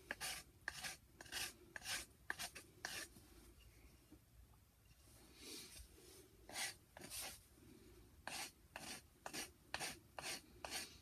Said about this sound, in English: I might get in there with a piece of sandpaper and sand it a little bit